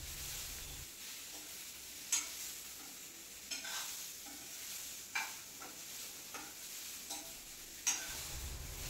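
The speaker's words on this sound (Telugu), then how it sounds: "ఇంకా బాగా ఫ్రై చేసుకోవాలి" Tomatoes, green chillies and a handful of roasted gram dal frying in a pan, a soft continuous sizzle broken by several spaced stirring scrapes and taps of a spoon, close and unaccompanied by speech.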